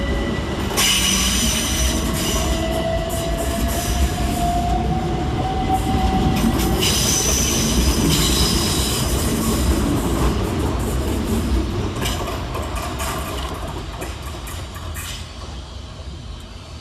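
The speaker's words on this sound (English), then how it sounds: "Up next to depart for Southeastern is 375910 and 375819, working the 1241 Southeastern service of London Charing Cross to Hastings." A pair of Southeastern Class 375 electric units pull out of London Waterloo East, rumbling and clattering over the rails with a drawn-out wheel squeal, then fade gradually as they draw away.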